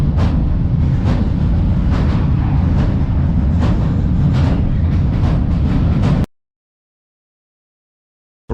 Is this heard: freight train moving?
yes